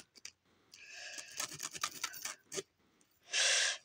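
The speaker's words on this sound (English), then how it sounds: "I'm having a hard time getting this zip back up." A stubborn zipper is worked up on a bag with several short, scratchy, uneven pulls. A longer, louder rasping zip comes at the end, close to the microphone.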